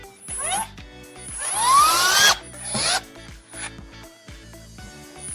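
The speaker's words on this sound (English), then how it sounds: "We screw these pieces on top." Pieces of a Max Nano XXL stand are screwed together into pre-drilled holes with a power driver, heard as loud close whirring bursts that rise and fall, broken by ratcheting clicks and short pauses.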